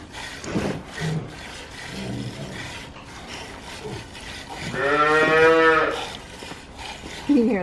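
Calf mooing in a barn stall on a family farm at milking time, one long drawn-out bawl near the middle, with quieter rustling and a few softer calls around it in a reverberant indoor space.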